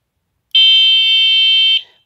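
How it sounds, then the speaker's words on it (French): An electronic finger-held bicycle bell gives one loud, steady, piercing electronic tone that holds for just over a second and then cuts off abruptly. "qui est une sonnette électronique qui peut se tenir au doigt également"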